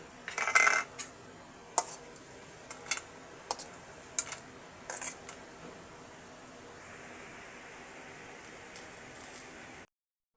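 Dried chillies, lightly fried, are pounded into a mash by hand, giving a run of sharp, separate knocks and taps at an irregular pace, close and fairly quiet, fading into soft background hiss toward the end.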